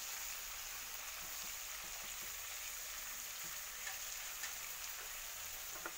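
Olive pickle with turmeric powder being stirred and cooked in a pan, a steady soft sizzle with faint scraping stirs running throughout, fairly quiet and even.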